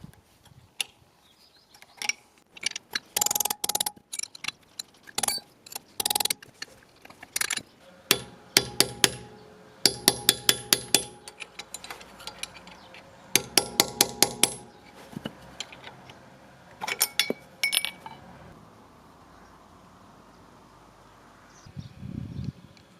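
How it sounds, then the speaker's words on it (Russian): Series of sharp metallic taps and clanks in quick irregular bursts, with pauses between, close up and fairly loud, as a cone-rimmed wheel hub cap is tapped off a Renault Logan. "Колпачок имеет конусовидный бортик и при постукивании потихоньку выходит."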